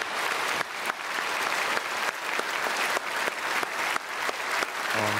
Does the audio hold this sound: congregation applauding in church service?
yes